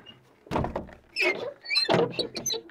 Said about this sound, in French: on ferme la porte